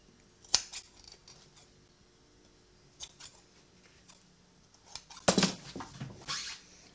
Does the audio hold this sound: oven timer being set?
no